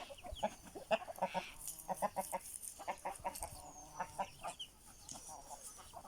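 Hens in a backyard coop cluck in quick, uneven bursts, close and fairly soft, with scratchy rustling between calls and a rooster among the flock.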